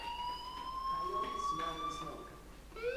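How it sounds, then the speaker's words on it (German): A fire alarm in the video game Life is Strange wails with a steady rising electronic tone over a busy background, while voices talk over it. "Hey, do you hear that fire alarm?"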